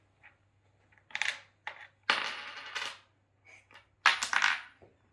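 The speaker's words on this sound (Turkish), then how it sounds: "Bir bozuk para ver de oynasın bari biraz." A coin drops and clinks repeatedly against a hard surface as a pet bird plays with it, several sharp metallic bursts and rattles close by with quiet gaps between them.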